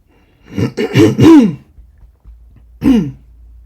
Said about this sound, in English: Sorry, needed to clear my throat.